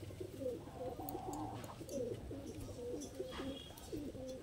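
Rampuri pigeons coo softly in repeated low, throaty rolling calls, close and faint, with no talking.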